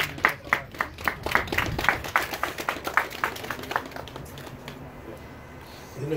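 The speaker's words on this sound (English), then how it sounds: "Everybody give a round of applause for Mr. Al Porter, please" A crowd at an outdoor candlelight vigil claps in a burst of scattered hand claps that slowly fades away, fairly quiet and distant.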